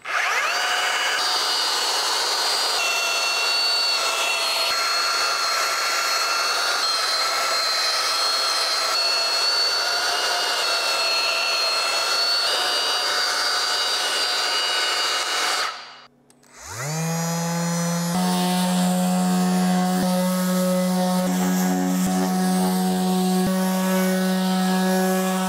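An orbital sander works a wooden crossbeam on a swing bed build, a loud, steady high-pitched whine that cuts out briefly midway, then restarts with a lower hum and continues.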